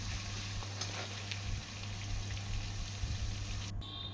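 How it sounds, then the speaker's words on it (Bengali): Sliced tomatoes fry in hot oil with tempering spices while a potato curry is made, a soft steady sizzle at low level with a faint hum underneath, no talking. "টমেটোটা একটুখানি ভাজা করে নেব নরম হওয়া পর্যন্ত।"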